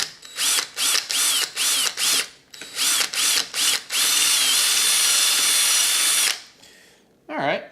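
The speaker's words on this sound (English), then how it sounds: "now that I've drilled the middle" A power drill drills out a transmission shifter part during a shifter rebuild, starting with about nine short, loud whirring bursts before running in one long, steady high-pitched whine up close; a brief voice follows after the drill stops.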